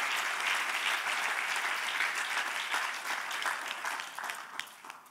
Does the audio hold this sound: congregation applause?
yes